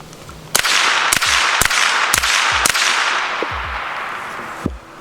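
Suppressed SIG MPX carbine fired with a HUXWRX Flow 9K suppressor, five sharp cracks in a brisk irregular string, each with a short ringing tail, then a sixth after a pause.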